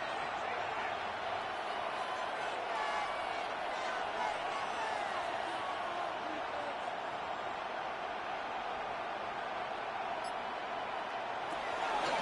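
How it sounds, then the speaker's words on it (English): Stadium crowd noise from a Madden football video game during an Atlanta Falcons game on third down: a steady, full, unbroken roar with no pause or swell. "This crowd into it now as we get to third down."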